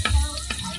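Garlic frying in cooking oil in a pot on the stove for chicken adobo, a steady low sizzle with a soft stirring scrape, close by and alone.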